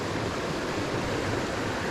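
A small, clear brook trout creek flows steadily, its broadband rushing wash holding an even, close level without any break or voices.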